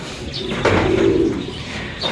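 A racing pigeon coos softly and close by inside a loft, a low murmuring call over a steady background hiss, with no voices.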